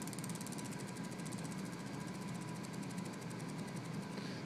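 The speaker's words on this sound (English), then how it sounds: "I put a load by putting my finger up against it." A small electric motor whirs steadily and loudly, its fast buzzing texture holding even throughout while a finger pressed against it loads it down, with no talk.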